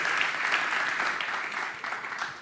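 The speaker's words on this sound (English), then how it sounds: "Applause for you." Applause at a start-up eMobility award ceremony, a steady patter of many hands clapping for an award winner, moderately distant and fading slightly toward the end.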